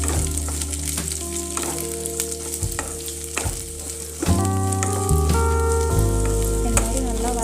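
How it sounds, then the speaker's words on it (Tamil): Chopped green beans are stir-fried in a pan with a loud, steady sizzle and stirring scrapes, while sustained musical tones play underneath. "கட் பண்ணி வச்ச பீன்ஸை வந்து அதை கூட நல்லா சேர்த்துக்கலாம். சேர்த்து நல்லா கிண்டி வதக்கிக்கலாம்."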